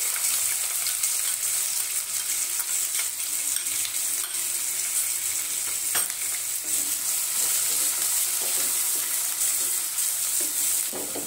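Onions frying in oil with asafoetida for a shimla mirchi and potato dish, a constant close sizzle scattered with small crackles and a few sharper pops.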